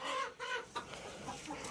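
Chickens near their roost cluck in short, close, quiet bursts, a few soft calls in quick succession with no voices.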